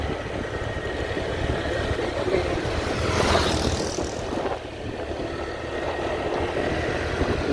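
Motorcycle engine on a road trip toward a mountain campsite in the Philippines, a steady loud drone mixed with heavy wind rush, with a passing vehicle swelling briefly midway.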